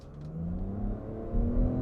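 The 3-cylinder engine of a 2022 Nissan Rogue hums under throttle with a gently rising pitch, then eases off, heard from inside the car without talk.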